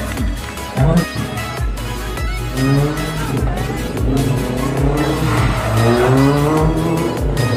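An off-road car performs slalom stunts at an outdoor police show ground in Batuan, with repeated loud tire squeals and skids over a revving engine, close and continuous with sharp bursts.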